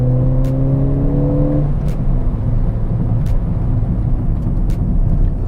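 A Ford Fiesta ST with mountune brake pads accelerates hard for high-speed stops, the engine revving loudly with gear-change tones up close, then sustained road and wind roar as speed builds.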